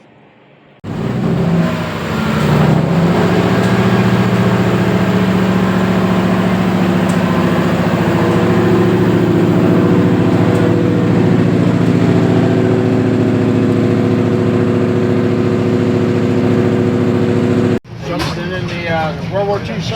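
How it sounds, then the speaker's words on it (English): A small Fairbanks Morse opposed-piston diesel engine runs in a museum, a loud, steady, low mechanical drone that holds unbroken for most of the clip before cutting off near the end. "a smaller version of the Fairbanks Morse opposed piston engines"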